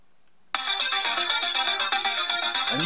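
A phone ringtone sounds loud and close, triggered by the find-phone function of a Casio G-Shock GW-B5600 watch, starting abruptly after brief silence and ringing on continuously with a steady repeating electronic melody.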